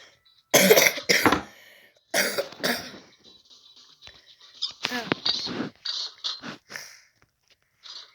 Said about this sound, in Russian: Выбачте, що я кашляю.